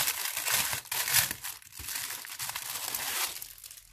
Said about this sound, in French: Attendez, on va déballer.